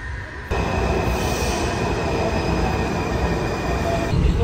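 A Washington metro train heading to Gallery Place rolls along with a loud, steady rumble of wheels on track, a high ringing whine from the rails and a continuous rushing roar inside the car.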